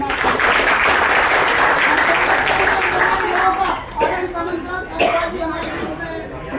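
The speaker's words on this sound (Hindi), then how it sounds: "जोरदार तालियों से" A crowd at an Agrawal community celebration for Agrasen Maharaj Jayanti breaks into loud applause that thins out toward the end, with voices and chatter mixed in.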